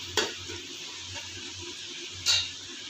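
Onions fry in a pan for vegetable biryani, a low steady sizzle running throughout with two brief sharp knocks of a spoon against the pan, near and fairly quiet.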